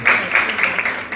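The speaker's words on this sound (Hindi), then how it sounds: "जोरदार तालियां" A short burst of applause from a crowd, bright and close, lasting about a second.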